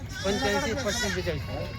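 A goat bleats at a village goat market, a wavering, quavering cry held close and loud, with a voice talking around it.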